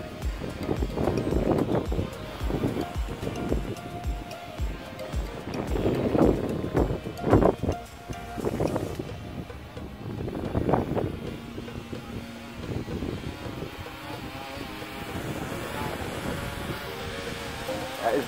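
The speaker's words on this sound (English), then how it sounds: "Oh, wind is picking up." Gusty outdoor wind buffets the microphone while a small toy drone is being flown. Uneven rumbling bursts come and go throughout, with occasional speech mixed in.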